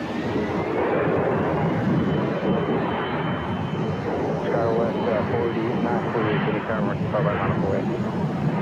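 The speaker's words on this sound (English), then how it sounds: "5 right, clear for takeoff, Kevin 3113." An airliner takes off at Phoenix airport, a broad, loud jet roar that stays steady throughout, with a voice faintly audible beneath it.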